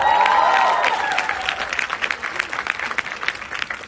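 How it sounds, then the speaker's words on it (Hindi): Audience applause at a live comedy show, a loud dense burst of clapping at first that thins into scattered, uneven claps, with a few faint voices in the crowd. "आज दिल्ली में बैठे मेरे बाप को अपनी तालियों से बता देना"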